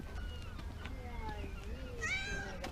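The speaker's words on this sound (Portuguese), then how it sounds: "Na ilha italiana de Stromboli, esses gatos estão em toda parte." Free-roaming cats on the Italian island of Stromboli meow faintly amid a steady outdoor ambience, with a brief higher cry near the end, distant and soft under a continuous background wash.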